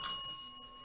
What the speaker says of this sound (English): I like to ring that bell when it's a confirmation from Spirit